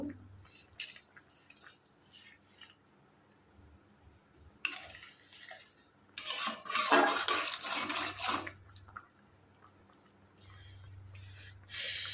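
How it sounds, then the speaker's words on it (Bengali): A spoon knocks and scrapes inside a pot as powdered milk is stirred into pointed gourd curry, with scattered clinks, then a louder burst of vigorous stirring and clatter before it settles into quieter taps. "দুধ আমি এর মধ্যে দিয়ে দেবো হালকা করে আর একটু নেড়ে দেবো"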